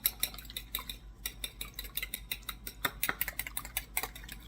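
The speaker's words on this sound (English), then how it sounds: "I'm just going to take a fork, and I'm just going to scramble these eggs a little" A fork whisks eggs in a bowl for cookie batter, making quick, light metallic clicks and taps in an uneven rhythm, close and fairly quiet, with no talking.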